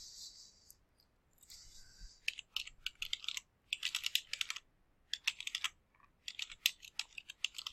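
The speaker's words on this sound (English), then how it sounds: "I'm just going to type that title in." Someone types a title on a computer keyboard: quiet, close key clicks in quick bursts separated by short pauses, with no talking.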